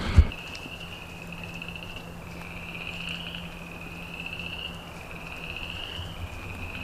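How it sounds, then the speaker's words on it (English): Chorus of frogs croaking steadily at a campsite by Lake Hartwell, Georgia, a continuous trilling drone in quiet night air, no voices. "Let's me stop talking and you listen to those frogs"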